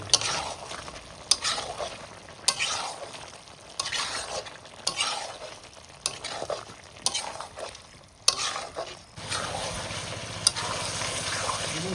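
Chicken with chilli, coriander and black pepper powders being stirred and sautéed in a pan outdoors, with a steady sizzle and repeated scraping strokes of the spatula at a close, moderate level.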